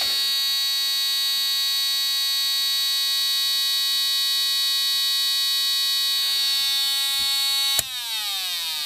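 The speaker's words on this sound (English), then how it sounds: "And you can surely hear it beep." A continuous, piercing electronic beep of about 300 Hz from a beeper circuit running on about 57 volts DC holds steady for several seconds, loud and unbroken, then cuts off abruptly with a brief click.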